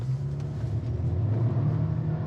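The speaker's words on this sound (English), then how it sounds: "let's do a 0 to 60 flat foot" A 2021 Mercedes GLA 250 launching at full throttle for a 0 to 60 run, heard from inside the cabin as a loud, steady low engine rumble that builds slightly, with no talking.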